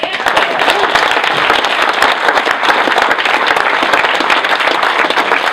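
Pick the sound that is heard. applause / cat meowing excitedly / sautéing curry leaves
applause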